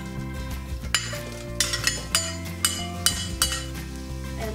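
Red onion chunks stir-fried in two tablespoons of vegetable oil in a wok, with steady sizzling under a series of sharp metallic clinks and scrapes of the spatula against the pan, close and fairly loud, no talking.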